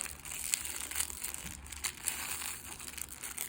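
A plastic package around an L.O.L. Surprise doll toy crinkles and crackles steadily while being pulled open, with sharper crisp snaps now and then, close and fairly quiet, with no voices.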